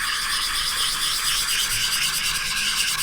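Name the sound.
sanding a turkey call with sandpaper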